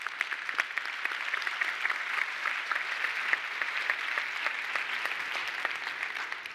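Moderate applause from a congress audience at an international vocational education event, many hands clapping in an even, somewhat distant round with no talk over it.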